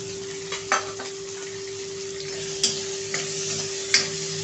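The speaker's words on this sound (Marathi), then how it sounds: "तेलामध्ये आपण टाकणार आहोत उभा चिरलेला कांदा, अद्रक आणि लसूण" Sliced onion, ginger and garlic fry in hot oil with a steady, close sizzle, broken by a few sharp clicks and scrapes of stirring against the pan.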